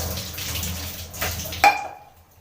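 Tap water runs and splashes over fresh curry leaves being washed at a kitchen sink, a steady close rush with a sharp clatter near the end before the flow cuts off and fades.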